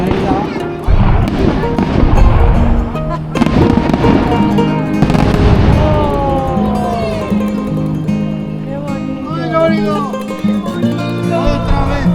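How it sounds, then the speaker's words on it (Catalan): A fireworks display after dinner in a Segovia-area town, with repeated booming bursts and crackles at irregular intervals, loud and fairly near, mixed with whistling tones and background voices. "hi ha un castell de focs artificials"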